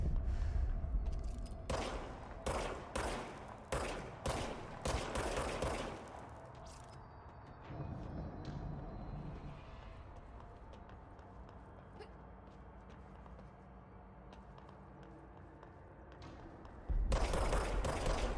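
Video-game gunfire in a house setting rings out as a rapid string of loud, sharp shots and bursts over the first several seconds, then fades to a low rumbling ambience before another loud burst at the end.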